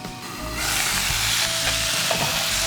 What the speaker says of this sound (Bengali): আমরা ঘুরিয়ে ঘুরিয়ে ভাজবো চতুর্দিক, যেন সব দিকে ঠিকভাবে হয়ে যায়।